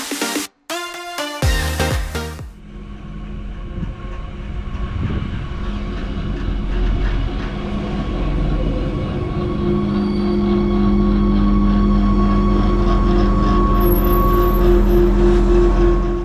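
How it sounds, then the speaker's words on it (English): A Stadler GTW regional train rolls into a station with a steady low rumble and rising wheel noise, a few high squeals near the end, after a brief burst of clatter at the start. "now we can take a look at the arrival of my train."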